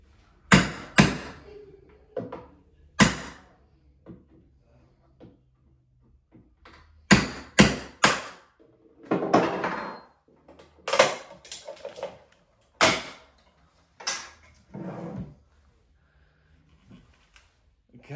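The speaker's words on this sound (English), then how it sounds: "So, armed with safety glasses and a chisel, let's see if we can have a look." A chisel strikes and pries at the casing of a fake battery, giving a series of sharp, separate cracks and knocks with quiet gaps between them.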